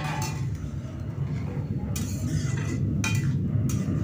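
A spoon stirs banana flower curry with chickpeas in a pot, giving soft continuous scraping and a few light metal clinks over a steady low simmer.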